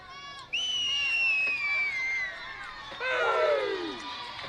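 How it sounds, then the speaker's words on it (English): A home crowd of Petersburg fans cheers at a Class A high school softball game against Wahama, with shrill whoops and screams rising over a steady roar that swells again near the end. "You can hear the Petersburg crowd getting into it here"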